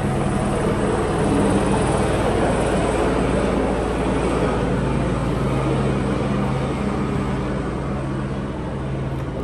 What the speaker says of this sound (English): I had to get quiet because it's this helicopter circling around.